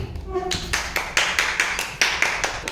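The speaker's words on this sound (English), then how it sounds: "Let's clap for Divyanshi." A few people clap for a child at the end of an indoor spelling game, sharp distinct claps in an even rhythm of about two or three per second, close by, with a voice heard briefly at the start.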